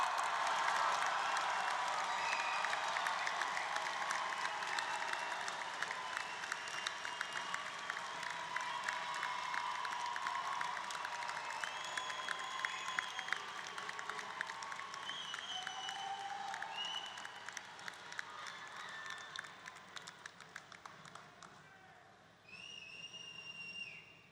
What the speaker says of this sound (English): let's have one more round of applause for our graduates